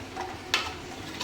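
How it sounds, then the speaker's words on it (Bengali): Tea leaves simmer in a pot of water on a home stove, giving a soft, quiet bubbling and hiss with a brief sharper crackle partway through. "দেখো ফুটছে ফুটছে।"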